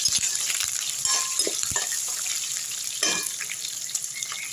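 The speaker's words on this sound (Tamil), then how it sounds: "நல்லா வதக்கி விட்டுருவோம்." Green chillies and curry leaves sauté in hot oil in a pan for tomato thokku, giving a steady close sizzle broken by a few light utensil clinks and scrapes, with no speech.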